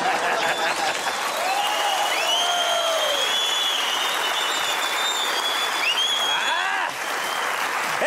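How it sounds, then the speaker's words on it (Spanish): Loud, sustained audience applause at a Colombian comedy show fills the whole stretch, dense clapping with whistles and cheering voices rising over it, steady without a break. "Ese aplauso quiere decir que lo que más nos mueve a los colombianos son los astros."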